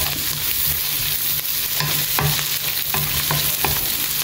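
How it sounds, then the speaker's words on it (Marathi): Turmeric powder being stirred into a sizzling mixture in a pan, with continuous close frying hiss and repeated scraping strokes of the spoon against the pan. "आतां हितून हांव घालता आमचे हल्दी पावडर आनी थोडो घालता. दिता बरो मिक्स."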